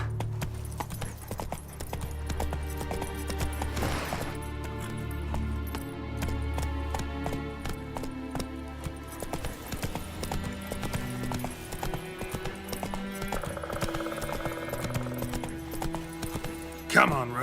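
Roach, Geralt's horse in The Witcher 3, gallops with steady clip-clop hooves under a game soundtrack, with a rider's shout and brief spoken urging over the hoofbeats.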